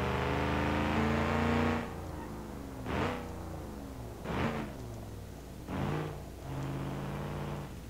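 A 6-liter V8 car engine in BeamNG.Drive revs loudly, then drops to idle and blips several times in spaced surges, each rising and falling, before settling into another sustained rev.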